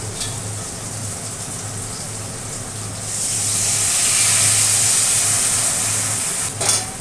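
Liquid poured into vegetables frying in a pan for a fish curry, the steady background hum rising into a loud, bright sizzling hiss that holds for a few seconds, then a brief clatter near the end.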